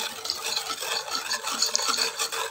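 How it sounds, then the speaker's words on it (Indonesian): A spoon stirs a mixture of plain jelly powder in a bowl, giving a steady soft scraping and swishing with a quick repeating rhythm, close and continuous, with no talk. "Ini pakai jelly powder yang plain. Kemudian aduk sampai rata."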